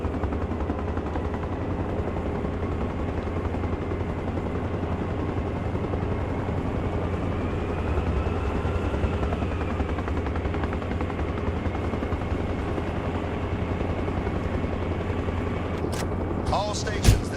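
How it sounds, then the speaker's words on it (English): Helicopter in the video game ARMA Reforger, a steady low rotor thrum and engine drone holding throughout, with a few sharp clicks near the end and faint voices underneath. "heli pickup at main."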